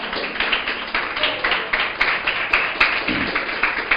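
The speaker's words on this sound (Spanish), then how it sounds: "aplauda, aplauda, aplauda, aplauda." Church congregation clapping during a sermon, a fairly quick, regular rhythm of many hands beating together, moderately loud and continuous with no speech over it.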